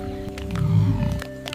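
A lion on the savanna gives a deep, rumbling roar that swells and fades, heard close and alone over a low steady background.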